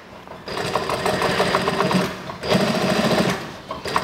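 A sewing machine stitches a trouser waist seam in two close, steady runs with a short break between, its rapid needle chatter loud and continuous.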